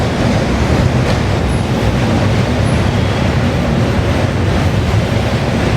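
A loud, continuous rumbling roar of the Kota–Patna Express crossing a combined rail-road bridge over the Ganges, steady from start to finish with no voices.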